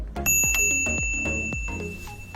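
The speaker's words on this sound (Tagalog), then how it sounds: "Naglagay din tayo ng ano, yung bell, tinago natin dito sa ilalim" A bell mounted under a Fuji road bike is flicked repeatedly, giving several bright metallic dings with ringing overtones that fade slowly. Close and clear, with no talking.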